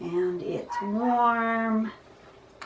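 A neighbour's dog whines and yips with a drawn-out, howl-like tone nearby while a person talks over it.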